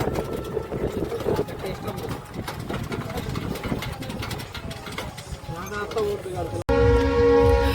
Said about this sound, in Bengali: এই যে ট্রেনটা ক্রস করবে, রেল লাইন।